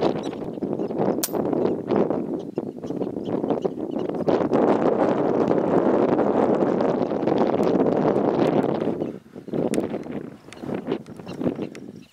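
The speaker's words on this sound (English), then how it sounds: "It's so windy out here." Strong wind gusts buffet the microphone outdoors on open prairie during airgun hunting, a loud continuous roar that surges and drops near the end, with no voices.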